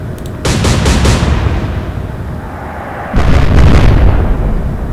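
Warship naval guns in the Atlantic Fleet game fire in two heavy booming salvos, each a sharp onset followed by a long rumbling roar that stays loud and close.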